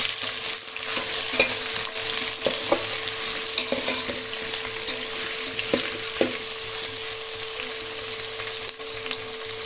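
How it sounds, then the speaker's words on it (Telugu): Chopped vegetables being stirred into biryani masala in a pan, a soft continuous sizzle broken by scattered scraping and tapping of a spoon against the metal, no voices. "వెజిటేబుల్స్ ఏవైతే కోసి పెట్టుకున్నా అవైతే వేసి వేసేసుకుంటున్నాను."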